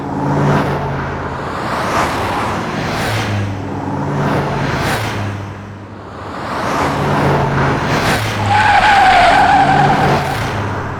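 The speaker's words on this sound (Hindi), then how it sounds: "अरे इतनी तेज गाड़ी लेके कौन जा रहा है?" A car speeding by fast, engine roaring in surging waves as it passes, tires skidding and squealing near the end, loud and close with no speech.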